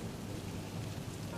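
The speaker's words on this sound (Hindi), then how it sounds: "इतने में बारिश शुरू हो जाती है।" Rain falls steadily as a dense, even hiss with a low rumble underneath, faint and continuous with no voices.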